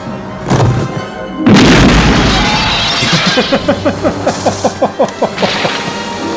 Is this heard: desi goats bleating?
no